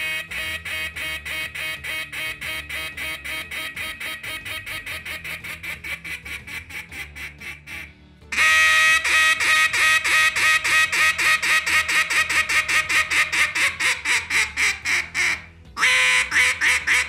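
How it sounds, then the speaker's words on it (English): Elite Legacy competition duck call blown in a rapid run of mallard quacks, a steady rhythmic series that briefly breaks, then resumes louder and sharper, close and alone with no voice over it. "this is a competition style call that will let you do the Main Street style competitions, and it also has great duck on bottom"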